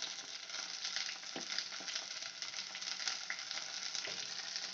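Onions and tomatoes with curry leaves sauté in a pan for a prawn curry, a faint, steady sizzle with light crackle and occasional soft stirring taps.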